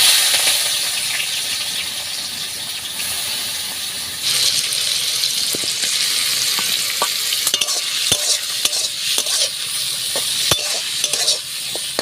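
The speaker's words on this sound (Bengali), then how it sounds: "এবার চিংড়িগুলো ভেজে নেব।" Prawns fry in hot oil in a pan for a Bengali recipe, a steady bright sizzle broken by sharp clicks and scrapes as they are stirred, close and loud, with no talking.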